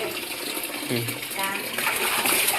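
Tap water running steadily in a household setting, a continuous gushing and splashing stream heard close by while people talk over it.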